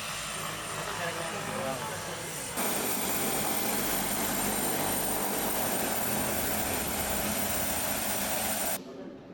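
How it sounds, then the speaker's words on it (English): A small 15-seater propeller plane's engine drones steadily and loudly with a broad roar, shifting level abruptly partway through as if the plane moves relative to the listener. "So that's a pretty cool plane."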